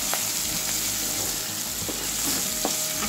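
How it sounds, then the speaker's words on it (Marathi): Diced potato sautéing in a pan for egg poha, a steady broadband sizzle with occasional spatula scrapes and stirs, close and continuous throughout with no talking. "आता हे आपण छान असे परतवून घेऊ"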